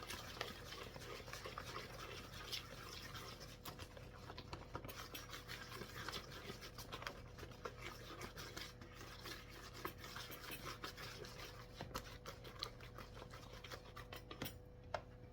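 Batter for carrot cake bars being stirred in a bowl, a steady soft rubbing and scraping that continues for the whole stretch at low volume, with no talking.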